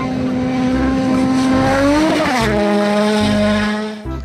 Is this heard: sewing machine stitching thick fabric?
no